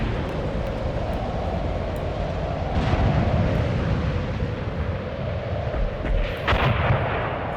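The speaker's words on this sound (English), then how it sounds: "did we just hit a mine?" A World War II tank hitting a mine in a 1943 Tunisia tank warfare video game, a deep booming rumble that swells under dense continuous battlefield noise, fairly loud and without clear talk.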